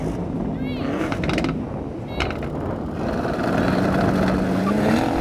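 A BMW M8 Gran Coupe, Audi RS6, Mercedes-AMG E63 and Porsche Panamera launch in a drag race, their engine notes climbing in pitch as they pull away. Someone talks over much of it.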